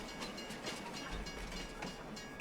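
A video game train pulling out of a station on a farming map, a continuous rolling rumble with faint clickety-clack rhythm, steady and moderately loud, no voices.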